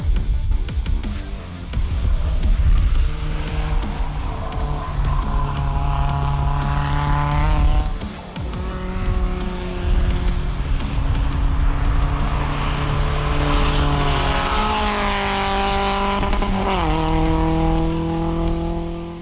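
A Mazdaspeed MX-5 lapping a race track, its engine revving hard through repeated gear changes, rising and falling pitch with tire squeal, loud and close throughout.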